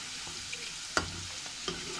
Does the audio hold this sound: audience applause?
no